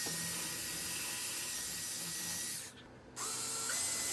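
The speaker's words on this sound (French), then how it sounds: "Je fais des petits trous, toujours des petits trous." A tool drilling small holes into a squash to make a lantern gives a close, steady whirring hum that cuts out briefly near the end and then starts up again.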